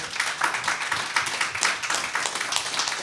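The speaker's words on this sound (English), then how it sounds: "A round of applause for our artists" Brief clapping from an audience thanking artists on a panel, a sparse, uneven patter of hands over about three seconds rather than a full ovation.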